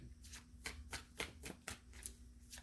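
Tarot cards are shuffled by hand in a series of crisp, rhythmic riffling bursts, about eight in under three seconds, close up and fairly quiet with no talking.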